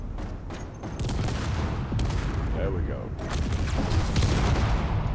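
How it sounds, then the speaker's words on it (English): Dense bursts of gunfire and booming explosions in a podracing video game fill the scene continuously, loud and chaotic, with someone talking briefly over the din. "That's what we all want to see, huge explosions."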